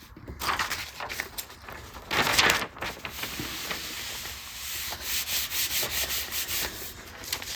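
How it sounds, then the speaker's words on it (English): A router cuts through a bass guitar body and its pickguard together, giving a steady close grinding whir with bursts of harsher cutting, alone with no talk. "I'm routing the body and the pick guard at the same time, since the holes have to match up."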